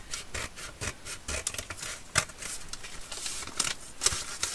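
Stacked paper pages held together for a handmade booklet are cut through in a quick, rhythmic series of close, rasping strokes, fairly loud and steady over a few seconds.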